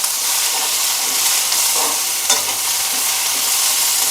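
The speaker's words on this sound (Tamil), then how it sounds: "தக்காளி சேர்த்து கொஞ்சமாக உப்பு சேர்த்துக்கலாம் வதங்கிறதுக்காக. உப்பு சேர்த்து லேசாக வதக்கிட்டு அப்படியே விட்டுருங்க." Tomatoes with salt sauté in a pan for a mint, coriander and curry leaf chutney, giving a loud, steady hiss and sizzle with occasional stirring scrapes and a brief clatter.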